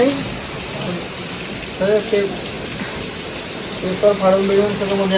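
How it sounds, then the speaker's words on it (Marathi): Heavy evening rain pours outside a house window, a loud, continuous hiss and splash, while a person talks over it in short bursts. "सो गाईज मस्त पाऊस आलाय संध्याकाळचे साडेपाच झाले आणि पाऊस जर बघाल तुम्ही तर म्हणजे इतका मस्त आहे आणि जोरदार आहे"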